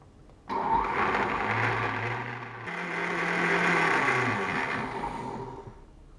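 Kitchen blender chopping Malaysian sambal chili sauce, the motor kicking in abruptly and whirring steadily for about five seconds with a brief dip in pitch midway before slowing, close and alone.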